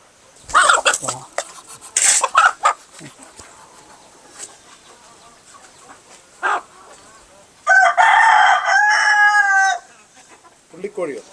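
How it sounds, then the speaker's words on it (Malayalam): A rooster crows loudly nearby in a long call, with other native chickens, including a speckled hen, clucking in short bursts before and after, and some brief sounds in between. "ഇതാ പുള്ളിക്കോഴി"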